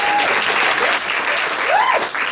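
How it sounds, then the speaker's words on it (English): Audience at a Future Females talk on social media content bursting into dense, continuous applause, loud and near, with faint whoops rising over the clapping for a couple of seconds. "Please give yourself a round of applause."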